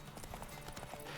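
Quiet rhythmic clip-clop of a horse's hooves in The Witcher 3, a steady trotting beat of repeated footfalls with no talk.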